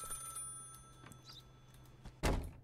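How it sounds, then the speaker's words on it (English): A telephone rings in the police-themed video game Contraband Police, a faint bell tone with a few quiet clicks and knocks before a louder thump near the end. "Okay, who's ringing me on this ungodly hour?"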